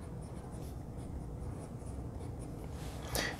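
Platinum 3776 fountain pen with a broad nib writing on paper, a faint, continuous close scratching with a quick stroke near the end, over a quiet background hum.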